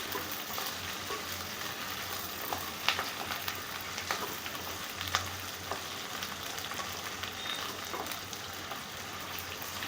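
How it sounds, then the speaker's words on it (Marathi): Whole okra frying in oil over a low flame for masala dahi bhendi makes a steady, close sizzle with soft crackles and a few sharper pops, with no talking. "ते छान आपल्याला तेलामध्ये फ्राय करून घ्यायची."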